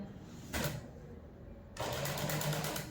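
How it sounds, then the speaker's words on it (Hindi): A sewing machine stitches along the neckline of a katori one-piece blouse in two runs, a short whirring burst followed by a longer steady run of rapid needle strokes, close by with no talking. "यहाँ मैं 5 इंच पे एक सिलाई और दूंगी ताकि जो मेरे नीचे के रॉ एजेस है वो फिनिशिंग से बैठ जाए"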